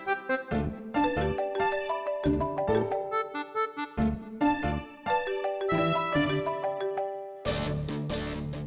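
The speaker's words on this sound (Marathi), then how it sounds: "मॅक, घरातल्या घरात कशाला फोन करतोस मला?" A melodic electronic ringtone plays a repeating tune of bright synthetic notes, looping without any talking.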